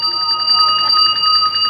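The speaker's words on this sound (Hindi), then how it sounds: "जैसे निकाल के दही मुंह डालेगा तो घंटी बाजे शुरू" A bell rings in a steady, sustained high tone with a fast shimmering pulse, loud and close and continuing without a break.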